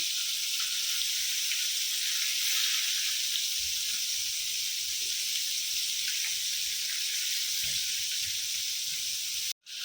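Bombil (Bombay duck) fish fry in a pan with a constant, close hissing sizzle that carries on steadily without talk before stopping abruptly at the end.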